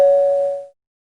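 A single bright bell strike rings out alone, its clear tone fading away within under a second into silence.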